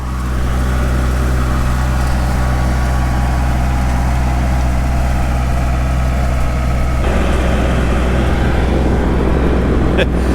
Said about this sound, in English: You can really hear those tread bars on the pavement without an engine running.